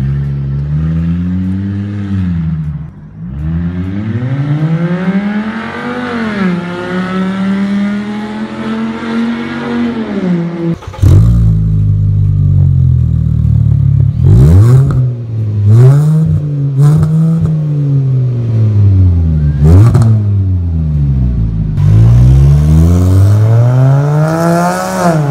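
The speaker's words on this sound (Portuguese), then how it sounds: "O carro da lista é o Toyota Camry V6, é carro de tiozão, com donos são tiozão, mas com puta de um motor, velho" Toyota Camry V6 engine revs hard and loud, its pitch sweeping up and down through repeated climbs, with sharp gear-shift breaks and a stretch of steady high-rev droning, alone without talk.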